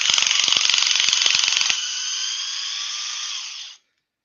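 A Dewalt impact wrench rattles in rapid hammering bursts for under two seconds, then settles into a steady high whine that fades out, loud and close with no talking.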